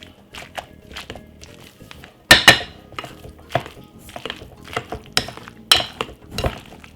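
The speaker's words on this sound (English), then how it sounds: "just simple mash it" Cooked beans are mashed with unsalted butter using a masher in a pot, producing irregular thuds, clinks and scrapes of metal against the pot, some sharp and loud, others soft, with a few faint voices.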